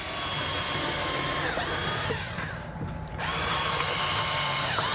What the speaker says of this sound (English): we gotta put in the other screws on our roof.